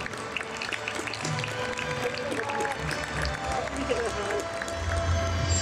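A large arena crowd applauds at the Emperor's Cup All-Japan Basketball Championship victory ceremony, a thick, continuous roar of clapping that swells slightly toward the end, with voices over it.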